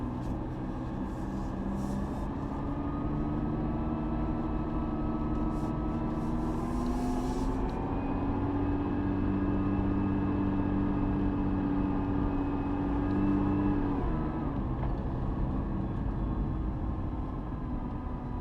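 A 2020 Nissan GT-R with a hand-built twin-turbo V6 and dual-clutch transmission cruises on the road, its steady engine drone and road roar filling the cabin, rising gently in pitch before settling, with no talking.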